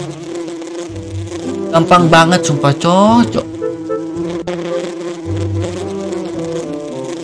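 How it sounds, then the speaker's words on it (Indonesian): Buzzing bees from the Save the Doge video game, a continuous insect drone, while someone talks excitedly over it with bursts of game sounds. "Hei, lebah. Hei, lebah, jangan galak-galak, lebah."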